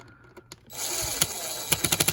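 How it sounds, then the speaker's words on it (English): A power drill drives screws snug into a small Woozoo fan's housing, a steady close whir starting after a few soft clicks and running to the end, broken by short sharp bursts near the finish. "Again, being very careful if you have a power drill."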